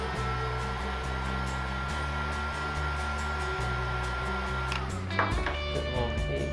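Heat gun blowing steadily while warming 3M Di-noc carbon fiber vinyl, a constant close whooshing hum with a couple of slight pitch shifts and a brief knock near the end.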